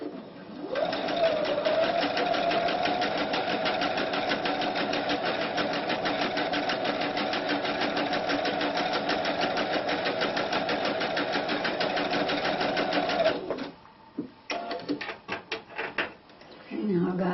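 Sewing machine fitted with a pintuck foot stitching pintucks, a steady close mechanical whirring run for about thirteen seconds, then stopping into a few short bursts and handling clicks.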